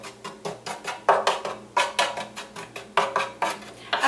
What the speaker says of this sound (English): kind of mix that together. In my big pan.